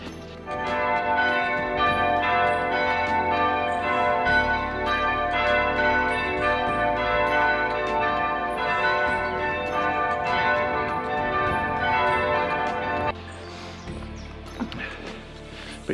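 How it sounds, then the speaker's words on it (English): Church bells at All Saints Church ring in a steady, continuous peal, clear and resonant from a short distance, then cut off near the end, leaving only quiet outdoor background. "Beautiful bell ringing going on there at the minute."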